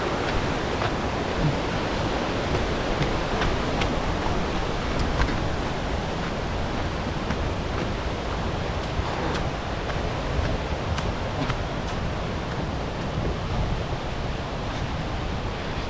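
Thoovanam waterfall near Munnar, Kerala, gives off a steady, dense rushing roar of falling water that stays even and close throughout, with no voices over it.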